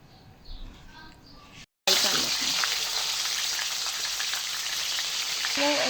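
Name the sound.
chicken frying lightly in a pan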